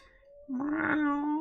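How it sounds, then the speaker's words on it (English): A house cat gives a single drawn-out meow, rising into a clear tonal cry and holding for about a second, fairly close and alone without talk. "That's my cat in the background."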